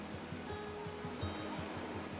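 Baltic Sea surf washes against wooden groynes along a beach, a soft, steady rushing wash with rhythmic low surges, distant and faint with no voices.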